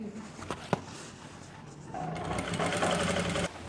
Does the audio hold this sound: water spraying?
no